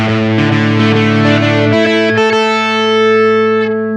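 Electric guitar through hex fuzz distortion on a Roland VG-99, GR-D or Boss GP-10 guitar synth, set so the bottom strings are more distorted, strums a series of loud fuzzy chords, then lets one sustained chord ring out.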